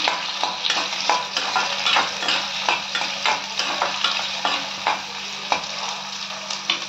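Large onions sautéing in hot oil for a mint chicken dish give a steady close sizzle, broken by frequent scraping stirs and light clinks of the utensil against the pan, with no talking.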